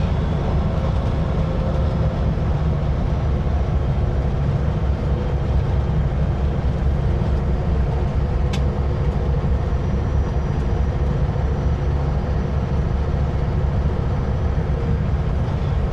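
A Super B truck rolls down a mountain descent with a loud, steady low engine and road rumble that drones on without a break, with no voices.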